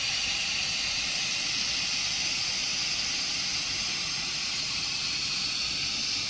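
Steam hisses steadily from the vent of an Instant Pot pressure cooker during pressure release while making tomato soup, a loud continuous rushing hiss heard close up.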